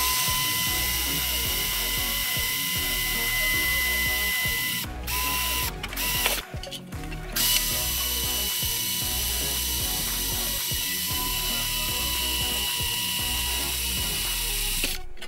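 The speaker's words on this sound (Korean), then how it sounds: "철재도 문제없이 구멍을 뚫을 수가 있습니다." A Tool&Tool cordless electric drill bores a hole through steel, giving a steady, continuous whirring grind that runs for the full stretch with a few brief louder bursts around the middle.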